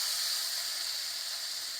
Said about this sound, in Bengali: এবার ওই তেলের ভিতরেই পেঁয়াজ দিয়ে দেবো। পেঁয়াজটা ভেজে নেব।